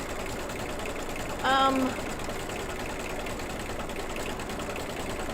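An embroidery machine stitches a quilting design on a mug rug with a steady, even mechanical hum throughout, broken once by a brief spoken word.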